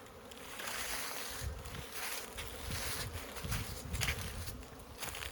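Honey bees buzz steadily around outdoor hives at a cabin on a cool spring day, a dense, continuous hum of many insects close by with no talking.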